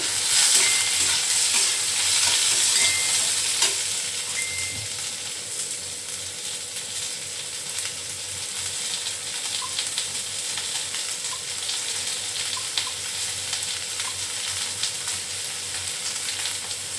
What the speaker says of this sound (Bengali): এরপর আমি এর মধ্যে দিয়ে দেবো একটু কুচনো পেঁয়াজ